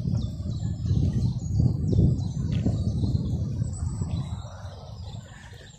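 Birds chirp and tweet in short repeated calls outdoors among bluebells and beech trees, fairly faint over a steady low rumble of wind or distant noise.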